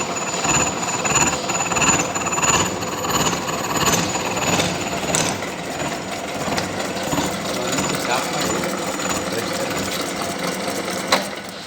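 A milling machine cutter slowly cutting spur gear teeth into a blank, giving a steady, continuous whirring and grinding machining noise close by with a faint high whine throughout.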